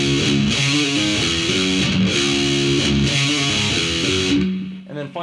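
Distorted heavy metal electric guitar plays a repeated chugging phrase three times, with an extra low chunk added as a pickup note between phrases, loud and close before ringing out briefly at the end.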